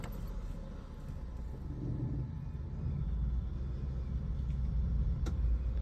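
A car's engine rumbles low and steady inside the vehicle during a driving lesson, with the rumble growing slightly as the car pulls away; no talking.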